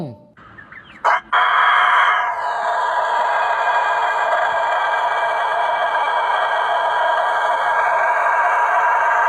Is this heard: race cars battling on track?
no